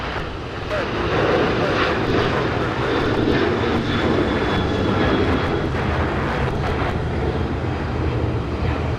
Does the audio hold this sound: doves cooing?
no